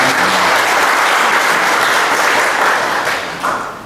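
An audience claps and applauds throughout at a government village-administration training opening in Sragen, Indonesia, a dense, loud, sustained applause that tapers slightly near the end.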